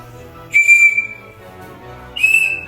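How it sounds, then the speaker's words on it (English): Two short, clear, high whistle tones blown from the whistle on the end of a 17th-century nutcracker handle, each about half a second long and separated by a pause, close and alone in a quiet room. "whistle."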